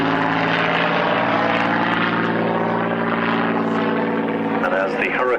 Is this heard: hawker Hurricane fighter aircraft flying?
yes